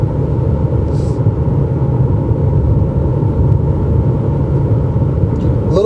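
A 2021 Mercedes GLA250 small SUV cruising at 63 mph through curves, heard from inside the cabin as a steady, loud road and engine rumble with no breaks and no talking.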